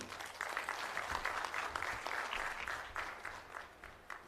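An audience at an official forum in Tanzania applauds steadily, a dense, even wash of clapping that holds for several seconds and then thins out.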